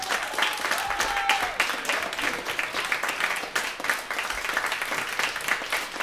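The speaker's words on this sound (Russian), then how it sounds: "Ваши аплодисменты." Audience applause at a live stage event, dense steady clapping from a crowd filling the whole stretch, with a faint voice briefly audible underneath.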